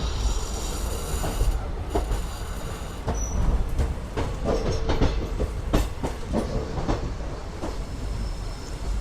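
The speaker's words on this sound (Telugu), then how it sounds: "రామేశ్వరం నుంచి అయితే బయలుదేరిపోయింది మన ట్రైన్ వచ్చేసి" A diesel-hauled passenger train pulling out of Rameswaram station toward Pamban, with a steady rumble, clickety-clack of wheels over rail joints and faint wheel squeal, heard from on board.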